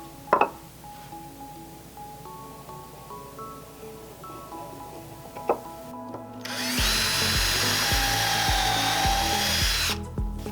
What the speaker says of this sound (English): And I'm using 1-inch drywall screws because that's what I have.